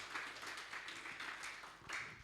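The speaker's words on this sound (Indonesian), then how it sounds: "Berikan tepuk tangan bagi Tuhan Yesus." A church congregation applauds during a live Sunday worship service, steady continuous clapping from many hands at moderate distance with a few louder swells, no talking over it.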